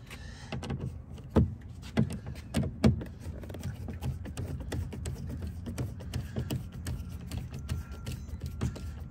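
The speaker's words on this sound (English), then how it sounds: "So basically, we're finna move this door panel." Door panel being pried off a Chevrolet Tahoe: a few loud, close plastic snaps and knocks, then quieter irregular clicks and rattles of trim handling.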